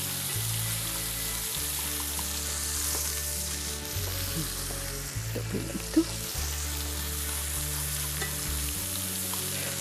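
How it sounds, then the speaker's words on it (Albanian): Onion sizzles steadily in a pan, a close, continuous hiss of frying with occasional scrapes of stirring, over a low hum in the background. "Pra do ta lëm qepën sa të na bëhet shumë transparente."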